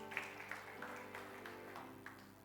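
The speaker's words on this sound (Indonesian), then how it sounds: "Tepuk tangan untuk Tuhan" A church congregation clapping together, a faint, fairly steady wash of hands with organ-like sustained tones underneath.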